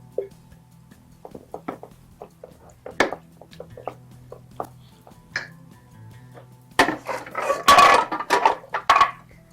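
A spoon clinks and scrapes in a bowl as blended coriander, mint and green chilli are mixed in. Sparse light taps come first, then a denser burst of scraping and clattering near the end.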